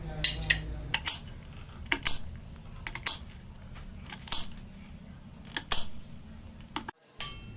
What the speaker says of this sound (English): The first we're gonna do is chopping the green beans.